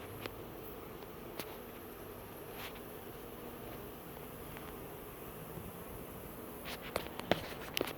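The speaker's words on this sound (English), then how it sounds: "Got a lot of bees on this deck." A faint, steady buzz of honeybees hums in the open air over a deck, with occasional soft clicks and taps, no voices.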